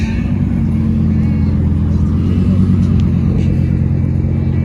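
Cars and trucks, including a Corvette and a C10, roll up at a car meet with a loud, close, steady engine rumble and low exhaust drone, while people talk over it.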